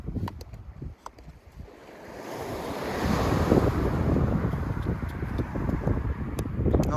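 Sea waves rolling onto an almost empty beach, a soft wash that swells into a steady, louder surf roar with wind buffeting the microphone.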